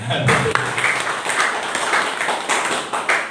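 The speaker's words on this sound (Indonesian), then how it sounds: "Tepuk tangan buat firman Tuhan" A church congregation claps after a sermon, a short, moderately loud round of applause with some individual hand claps standing out, mixed with faint voices in the room.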